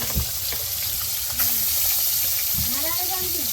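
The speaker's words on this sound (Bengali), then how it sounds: "এই যে মাছ ভাজা আরম্ভ হয়ে গেছে" Fish sizzles in a frying pan at an outdoor cooking spot in the Sundarbans, a moderate steady crackle with occasional clatter and a few brief tonal, voice-like sounds over it.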